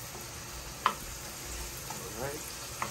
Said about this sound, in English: We're going to make the garlic very fragrant and bring out the aroma of the garlic